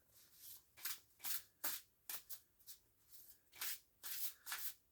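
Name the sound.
shuffling a tarot card deck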